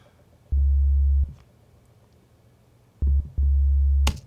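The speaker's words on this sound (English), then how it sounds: "so this is just like a sine wave." Deep, pure synth sine bass notes sustained in three separate bursts with gaps between, smooth and low, with no other sounds.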